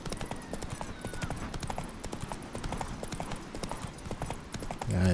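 Horse hooves clip-clop steadily in The Witcher 3 as the horse travels a long way, a continuous, fairly close rhythm of hoofbeats running throughout with some background ambience.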